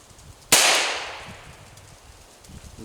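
A single sharp shotgun-like report from a Winchester snake shot round fired at a target, loud and close, with a quick decaying tail over quiet outdoor background.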